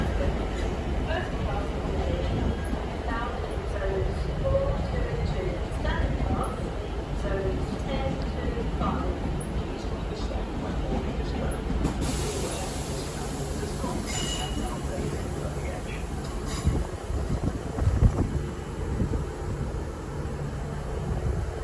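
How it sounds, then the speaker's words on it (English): A train arrives at a platform during a spring event on the Midland Railway, a rumbling, rolling drone with a hissing rise partway through, heard under steady talk and crowd voices. "So our train is just arrived on platform"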